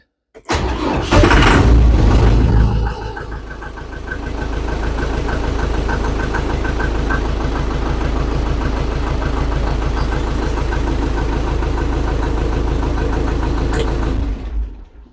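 A Scout TV-904C tractor engine, freshly fitted with a replacement muffler, starts with a loud rough burst and then settles into a steady, knocking idle that runs alone and close by.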